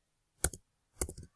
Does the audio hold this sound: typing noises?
yes